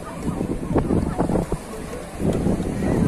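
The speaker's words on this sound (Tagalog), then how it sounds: "ang sarap ng hangin." Steady wind buffeting the microphone at Shek O Beach, Hong Kong, a broad rushing roar with gusty swells, mixed with faint background voices.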